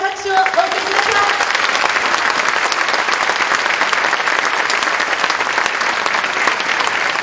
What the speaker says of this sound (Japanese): 改めまして大きな拍手をお送りします。